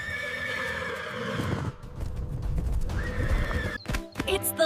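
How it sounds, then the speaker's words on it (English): A horse on a farm gives a loud, close whinny that rises and falls, then a second neigh, with a few hoof clops and thuds toward the end. "It's a horse."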